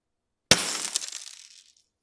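A glass ampule that holds calcium metal is broken: one sharp crack, then a brief spray of tinkling shards fading out over about a second, close and alone after silence.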